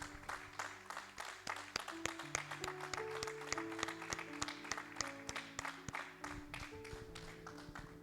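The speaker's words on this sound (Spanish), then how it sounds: "Un aplauso para el Espíritu Santo de Dios." A church congregation applauds at a service, with dense sustained clapping heard from a moderate distance over faint background tones.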